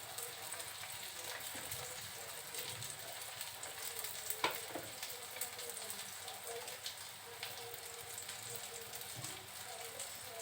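Cooking oil heats in a kadai, giving a faint, steady, even sizzle throughout with a few soft clicks and taps, and no talking over it.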